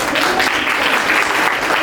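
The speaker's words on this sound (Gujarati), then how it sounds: "તો એના માટે હજી એકવાર તાળીઓથી જાય." A crowd at a Bhagwat Saptah religious gathering breaks into dense, loud, continuous clapping that fills the whole moment without a break.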